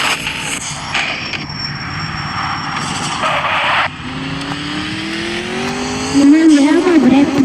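Race car in Gran Turismo 5 roaring at speed, engine note climbing and shifting with a whine rising in pitch, loud and continuous with a brief squeal near the end.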